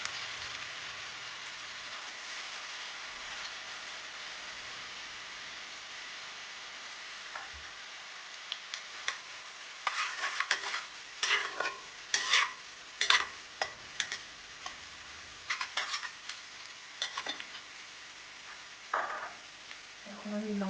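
Ginger sizzling and being stirred in a pan while cooking lunch, a steady hiss of frying with scraping stir strokes that grow busier and louder toward the end.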